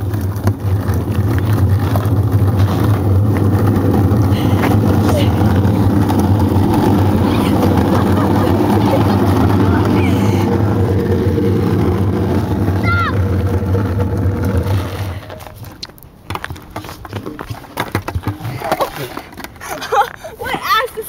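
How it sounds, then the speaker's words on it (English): Skateboard rolling downhill with a tire, a loud continuous low rumble with wind buffeting for about fifteen seconds, then dropping away to quieter scuffs and clatter while people talk. "I'm going to go down this hill on my skateboard with the tire"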